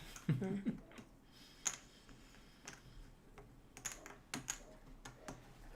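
Board game tokens are shuffled by hand, giving quiet, scattered close clicks and clacks with brief plastic rattles and short pauses between them.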